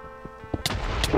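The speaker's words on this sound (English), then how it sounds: "Okay, I got struck by lightning." A lightning strike in modded Minecraft sounds as a sudden sharp crack followed by a rolling, booming rumble of thunder that builds and stays loud to the end, over a faint steady tone.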